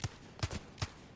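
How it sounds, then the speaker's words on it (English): Three sharp gunshots in a multiplayer video game with portals, spaced evenly at a quick rhythm, fairly faint and with no talking. "Shots."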